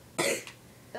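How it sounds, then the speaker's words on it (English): A sharp, close cough from a sick person, followed by a second shorter one a moment later. "Sorry if you hear coughing."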